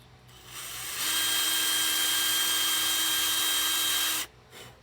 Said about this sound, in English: you can see the holes after I've drilled them right here and then right there